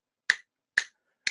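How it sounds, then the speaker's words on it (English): Sharp hand claps ring out in a quiet office, three crisp, close slaps spaced roughly half a second apart with silence between them. "if I clap, and you can hear this here in my office"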